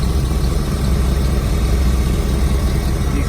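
A 1990 Chevy G20 hightop van's 5.7-liter 350 throttle-body fuel-injected V8 idles close up, a loud, steady low rumble with an even pulsing beat and no voices.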